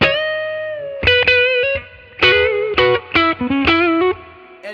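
Electric guitar through a 1960s Fender Deluxe Reverb tube amp at the edge of breakup, with a warm, slightly gritty overdriven tone, played in short chord stabs and picked notes with brief pauses between phrases.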